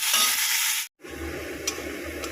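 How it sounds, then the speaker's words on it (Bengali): Loud sizzling of garlic frying in a pan, briefly cut off, then resuming as a steady, slightly quieter crackling hiss with low rumble. "রসুন এখানে ভাজছি হালকা করে ভাজবো"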